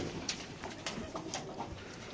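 Racer pigeons coo softly at a pigeon market, several low throaty calls scattered across a couple of seconds, faint and close, with light background shuffling.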